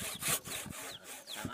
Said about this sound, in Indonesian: Jadi dengan cara digergaji dulu. Ini digergaji sampai selesai.